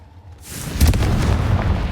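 Confringo fire-blast spell exploding in Hogwarts Legacy: a quiet lead-in, then one loud, broad booming burst that swells and lingers with a rumbling, crackling tail, with no voices.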